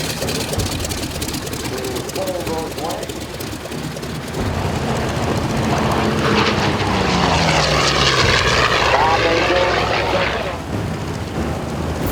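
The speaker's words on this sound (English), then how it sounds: "Not only do spectators enjoy the flying, but can get up close and personal as the planes taxi past for great photo opportunities." Propeller airplanes taxi past at a Midland CAF air show, their engine drone swelling loud and close midway, with crowd noise and voices in the background.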